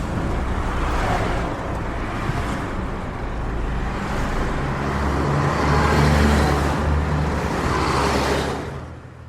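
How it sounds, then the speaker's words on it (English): A convoy of about sixteen vehicles speeds past on a road in a steady, loud roar of engines and tyre rush that swells and fades, with no talking. "A whole convoy zipped past us, heading toward Peekskill."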